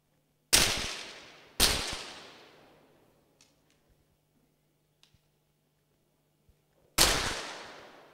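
Three sharp, loud 50m pistol shots crack out at a men's shooting championship in Maribor. Two come about a second apart, then a long quiet gap before the third, each leaving a fading echo.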